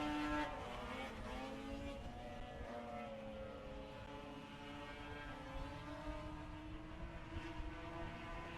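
Race car number 47 of Kirby Kaltoff launching from the start at a December 2019 race, its engine note climbing steadily in pitch as it accelerates away, fairly distant and moderately quiet with no talk.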